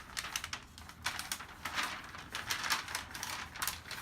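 A paper liner for a wooden mold is reverse folded by hand, giving quick, close, dry crinkles and crisp creasing snaps in an irregular rhythm, with no talk over it.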